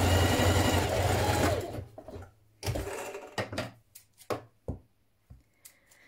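A home sewing machine runs steadily while stitching a straight seam on a 1960s vintage dress, a continuous motorized whir for the first second and a half, followed by short separate bursts of stitching and fabric handling.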